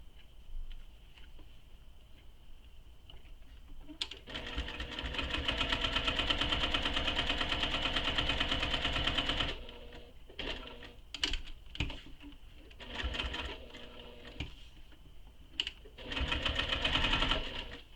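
A sewing machine top-stitches a convertible tote in several bursts of varying length. Longer runs alternate with short stops, clicks and pauses, all heard close by without speech.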